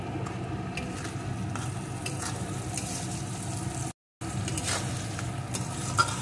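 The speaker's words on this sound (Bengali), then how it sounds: "এখন পেঁয়াজটাকে একটু ভেজে নেব।" Chopped onions with a little salt fry in a pan, giving a steady, close sizzle that runs throughout with a brief dropout just before the fourth second.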